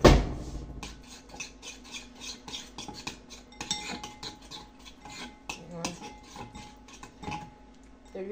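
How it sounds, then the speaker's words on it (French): A utensil clinks and scrapes steadily against a bowl while a salad is tossed with olive oil, close and fairly quiet, in a rhythmic series of light taps with no talking. "pour mélanger mieux ma salade."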